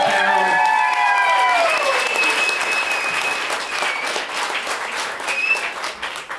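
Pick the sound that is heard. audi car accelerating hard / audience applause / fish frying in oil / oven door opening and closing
audience applause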